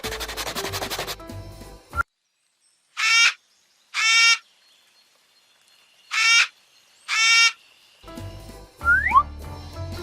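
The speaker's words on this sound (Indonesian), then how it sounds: "8 burung kakak tua berkicau." Cockatoos squawk in four loud, harsh bursts, evenly spaced in otherwise quiet surroundings, with louder animal and background sounds at the start and end.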